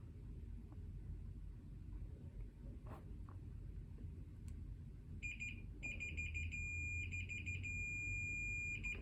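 During car radio wiring work on a Nissan PAO, an electronic unit beeps in a broken, stuttering high tone for several seconds, sounding near over a low rumbling background hum.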